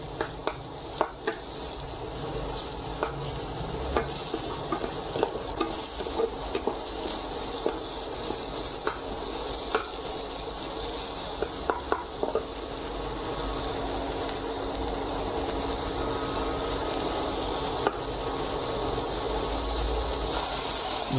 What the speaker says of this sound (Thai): เห็ดผมใช้อยู่ประมาณ50 กรัมนะครับ ก็นำลงไปผัดให้หอมนะครับ